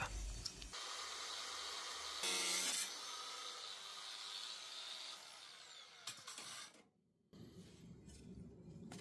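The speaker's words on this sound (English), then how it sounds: "I'm just going to take the grinder and just cut it right up" An angle grinder cuts through a plastic fender flare on a lifted Chevy Express van, giving a steady loud whine with rough rasping, a brief harsher surge partway through, and then a sudden stop and quieter aftermath.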